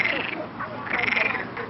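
Frogs croak in overlapping bursts, a dense rhythmic chorus close by in a pond at a botanical garden in Madeira, with faint voices underneath.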